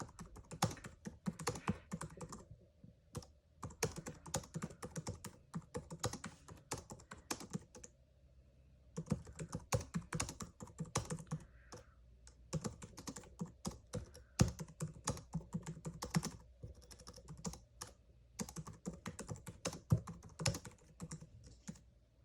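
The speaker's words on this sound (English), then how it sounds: "As you can tell, the typing was pretty smooth." Rapid typing on a 2010 MacBook Pro laptop keyboard, quiet and close, in bursts of keystrokes separated by brief pauses.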